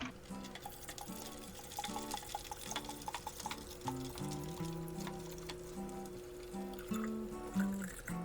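Water poured into thick honey in a home mead-making fermenter, a steady splashing, gurgling pour with faint clinks and stirring, close and continuous for several seconds.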